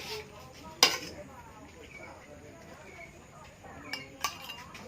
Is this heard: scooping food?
yes